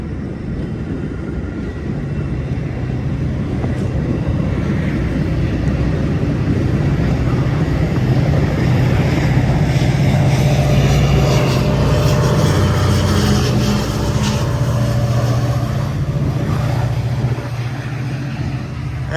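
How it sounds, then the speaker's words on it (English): An eastbound Metra express train, number 1264, pulled by an EMD F40PH-3 diesel locomotive, passes through LaGrange, Illinois in snow. It makes a steady, loud, continuous rumble and roar that lasts throughout, with no talking. "And he's got the usual EMD F40PH-3 locomotive."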